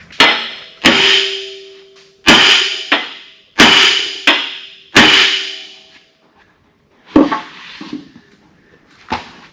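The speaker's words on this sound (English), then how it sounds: "Let me get a hammer." Hammer blows ring out on a stuck part of an offroad wrecker, metal impacts in a loose rhythm: four loud strikes with ringing decay, then a few lighter, duller knocks, close by with no talk.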